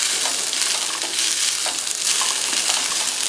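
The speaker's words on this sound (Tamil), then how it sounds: "இப்போ வந்து வெங்காயம் நல்லா வதங்கிடுச்சு. வேக வச்சுருக்கிற சன்னாவையும் போட்டுடலாம்." Boiled chickpeas tipped into a frying pan of sautéed onion with green chilli and ginger give a steady, close sizzle with scattered soft stirring knocks and scrapes, no voices.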